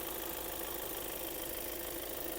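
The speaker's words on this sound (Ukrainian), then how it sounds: "Мотор взагалі працює ідеально." Engine of a Volkswagen Passat Alltrack 4Motion, a newer-generation 147 kW, 200 hp unit, idling under the bonnet: a steady, even hum with a low rumble and no break, close and moderately loud, with no talk.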